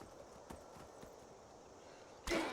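Horse hooves clip-clop faintly in Skyrim, a few soft taps spread over a quiet game background before a louder burst near the end.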